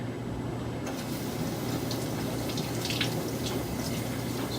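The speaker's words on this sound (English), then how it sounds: "So I'm going to wash my hands after touching that." Water runs steadily from a tap as hands are rinsed after touching an oily substance, a continuous broadband hiss with faint splashing that holds moderately loud for the whole stretch.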